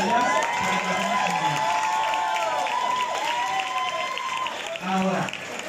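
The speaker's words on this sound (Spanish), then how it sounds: "así que aplausos para todas ellas" A crowd applauds and cheers for drag performers at a drag show in Ensenada, with loud clapping, whoops and shouting voices carrying throughout and a fresh burst near the end.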